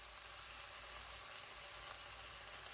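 Tuna and minced garlic stir-frying with kimchi in a pan, a steady soft sizzle without a break, fairly faint and close, with no talking.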